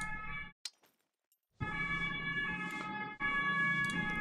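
An emergency vehicle siren (Martinshorn) in the video game SCUM, a loud two-tone wail that cuts out briefly into near silence, then resumes steadily.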